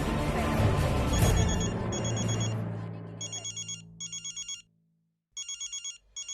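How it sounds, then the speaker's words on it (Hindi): A phone ringtone trills in repeated electronic bursts with short gaps, starting under a loud rush of noise that fades away, leaving the ringing alone. "भाभी, हमारा बहुत अर्जेंट फोन आ रहा है"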